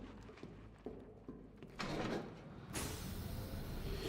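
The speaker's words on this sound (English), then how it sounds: "Closing the vault door will contain the explosion." In Batman: Arkham Knight, a heavy vault door closes to contain an explosion. A few soft mechanical knocks lead into a rising rush, then a loud, sustained broadband roar as the door seals, with no voices.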